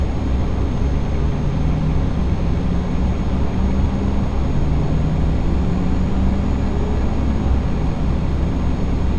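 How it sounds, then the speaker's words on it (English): A car engine in Euro Truck Simulator 2 with the Promods map mod, heard as a loud, continuous droning rumble with a faint whine that rises in pitch a few times, steady throughout and without speech. "I do not know why that car sounds like that."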